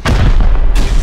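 Loud, close rocket blasts erupt during a Rust video game raid, two heavy booms in quick succession over a continuous low rumble.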